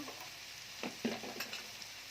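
Spices for vegetable Maggi fry quietly in a pan, a faint soft sizzle with a few scraping stirs and small clicks of a utensil.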